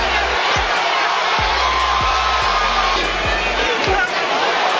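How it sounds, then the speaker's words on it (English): A boxing arena crowd at a heavyweight bout roars in a steady, dense wash of cheering and encouragement, with a commentator's voice talking over it throughout. "The crowd's encouraging."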